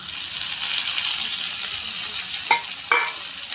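Tomatoes and spice masala fry with browned onions in a pan for Gujarati dal, giving a steady, close sizzle with a couple of faint utensil clinks near the end.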